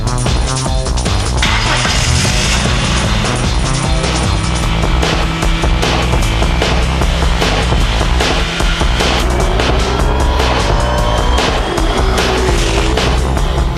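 A loud race car engine roars and revs continuously, its pitch sweeping up and down through gear changes, with occasional tire squeal.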